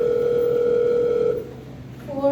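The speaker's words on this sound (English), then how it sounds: "You can dial the number directly." A telephone tone sounds steadily, then cuts off and gives way to short dialing tones, close and clear in a stage play scene.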